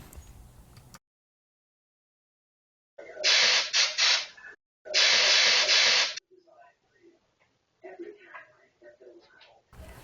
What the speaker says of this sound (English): That is, until I started spraying.